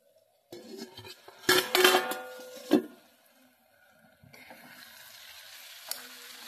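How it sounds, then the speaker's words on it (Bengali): A lid comes off a pan of simmering potato, pumpkin and prawns: a clattering metal clink and rattle, then a softer bubbling sizzle and a final light tap, close and without talk. "এবার ঢাকাটা খুলে একটু দেখে নিই এগুলো সব সেদ্ধ হয়েছে কিনা"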